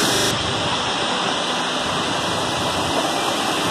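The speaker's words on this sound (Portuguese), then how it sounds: "É a cascata da Serra do Rio do Rastro." Waterfall cascade at Serra do Rio do Rastro, a mountain road in Santa Catarina, pours in a dense, steady roar of rushing water, close and loud, with no talk over it.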